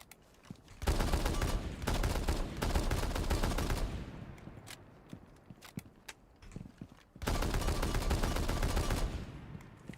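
Automatic gunfire in a first-person shooter video game, two long loud bursts of rapid shots separated by a few seconds of quieter footsteps and clicks.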